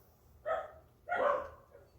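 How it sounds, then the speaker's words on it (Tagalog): Two dogs or one dog barks twice outdoors near a swab testing site, moderately close but fairly quiet against a low background hum, with no talk. "pasensya na, ang daming aso naririnig."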